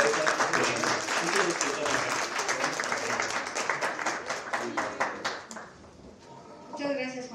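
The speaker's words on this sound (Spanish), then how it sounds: "Un aplauso para ella" An audience at an Open Data Day event in Mexico City bursts into dense, loud applause that holds for several seconds and then thins out, with a voice coming in near the end.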